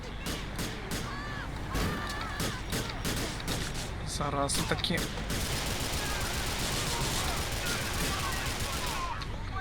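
Rapid bursts of gunfire crackle through a busy GTA 4 soundscape, with sharp repeated shots and a brief rattling volley, while someone talks over it.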